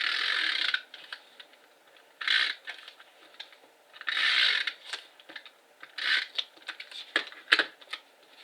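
Snail adhesive tape runner rolled across card stock in several short bursts of dry clicking, ratcheting rasp, each pass a second or so long and close by, with quiet gaps between and no talk.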